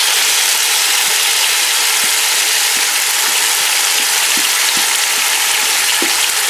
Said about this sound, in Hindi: इसमें अब हम जो है अपना मैरिनेटेड चिकन ऐड कर लेंगे।